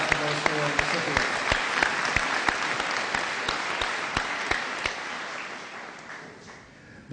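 Audience applause at the 2011 Brattleboro Union High School graduation, honoring four award recipients; a steady crowd clapping wash with sharp individual claps standing out, tapering slightly toward the end.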